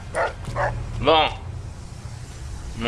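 A few short dog barks and yips in the video game Fallout: New Vegas, moderately close, with quiet background noise between them.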